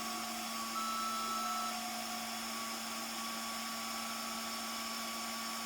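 A 1/14 scale Liebherr Compact 920 RC hydraulic excavator model powers on with a faint, steady electric whine and several sustained high tones, no voices.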